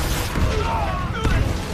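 Rocket artillery bombardment in a war film, heavy booming blasts and rumbling impacts crowding together, loud and dense, with a voice speaking over the barrage.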